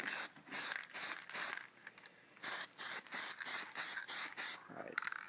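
Spray paint hisses from an aerosol can onto homemade JDM-style car turn signals, delivered as a rapid series of short close bursts with brief gaps between them.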